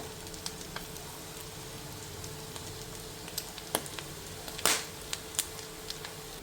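Mussel (clam) meat roasting in hot oil for a spicy South Indian fry, giving faint scattered pops and crackles over a steady low sizzle, with one sharper burst midway.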